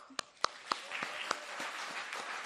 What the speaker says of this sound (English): We have to give them a huge applause.